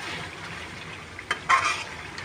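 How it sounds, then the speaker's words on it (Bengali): Meat being fried down (koshano) in oil in a pan, a steady low sizzle running throughout with a couple of brief scraping stirs near the end, close and fairly quiet with no talking. "এই যে দেখছেন তেলের উপরে কষাইতেছে"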